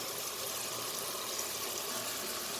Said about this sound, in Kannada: ನೀರು ಹಾಕ್ತಾಯಿದ್ದೀನಿ